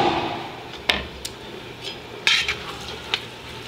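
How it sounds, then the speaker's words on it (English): Metal utensil scrapes and clinks against a pan as onions, peppers and garlic are stirred into browning meat, a few sharp stirring knocks over a soft frying background. "Give it a quick stir."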